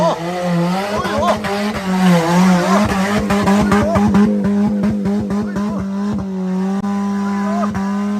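A car with its exhaust pipe fallen off revs loud and raw while it slides and skids, engine tone rising and falling with bursts of wheel spin close by.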